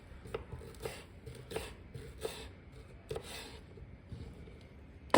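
Knife chopping thyme leaves, onion and scallion small on a board for Jamaican salt fish fritters, a series of quiet, irregular close taps with soft scraping between them.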